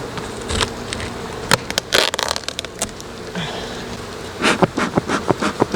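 Honey bees swarm around an open hive's honey super, a close, continuous buzzing drone punctuated by sharp clicks and knocks of frames and hive parts being handled.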